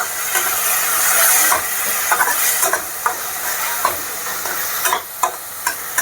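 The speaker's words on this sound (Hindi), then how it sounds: "अब इसमें हम डाल देंगे प्याज एक बॉल, कद्दूकस किया हुआ प्याज, इसको भी हम अच्छे तरह से भून लेंगे" Grated onion sizzles and hisses in a pan while being browned for chole, a steady loud frying crackle broken by several sharp scrapes and clinks of a stirring spoon.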